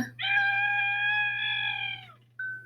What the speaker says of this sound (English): The squeal of Scaredy Monster was heard for miles around.